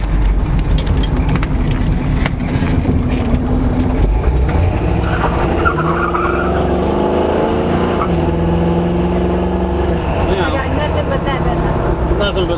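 A 1978 Camaro with a smoking valve cover filter rumbles loudly under throttle while driving, the engine note rising and falling as it accelerates, with someone talking over it.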